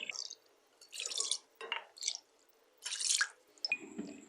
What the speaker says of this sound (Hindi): अब डालेंगे पानी।